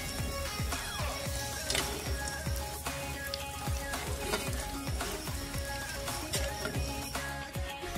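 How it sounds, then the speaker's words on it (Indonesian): Fork cookies (kue garpu) frying in a pan of hot oil, giving a soft steady crackle and sizzle with scattered small pops and clinks, fairly quiet and without speech. "terus digoreng sampai selesai ya"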